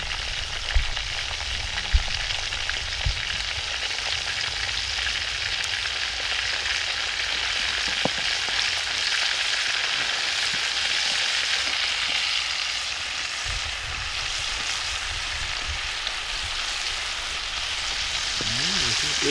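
Venison steaks sizzle and fry steadily in a pan at a rainy campsite, a continuous close hiss with faint crackles and no talking.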